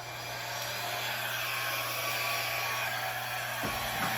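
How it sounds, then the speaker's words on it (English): Air blower pushing out acrylic Dutch pour paint, a steady high whooshing hiss with a constant motor hum, close and unbroken throughout. "Watch the airflow from your blower to make sure that you're not going to grab any of that other color you don't want to grab."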